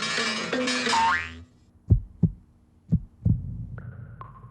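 Springs bouncing in a cartoonish sound effect: four distinct springy boings in a loose rhythm, clear and close, each following a short spoken passage, ending with a brief two-tone chime.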